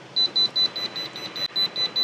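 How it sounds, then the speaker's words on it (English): Portable jump starter beeping as its clamps are connected to a car's dead battery: a quick series of short, high electronic beeps in an uneven rhythm, clear and close, with no one talking. "You're gonna hear a little beeping or something as you do that."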